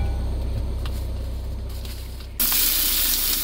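A spicy sculpin fish stew heats on a camping stove: a steady hiss of flame and simmering runs throughout, jumping to a louder, brighter roar partway through as the heat rises.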